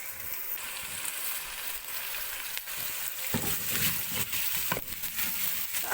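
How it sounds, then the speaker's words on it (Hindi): Tomatoes drop into ginger garlic paste frying in a pan, setting off a steady close sizzle with scraping stirs and crackling bursts as they hit the hot oil. "तो अब इसमें हम टमाटर डाल देंगे।"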